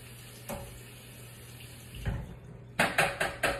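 Canned kidney beans are rinsed under a running kitchen tap, with a steady low water hiss and a few louder splashing surges and clatters toward the end.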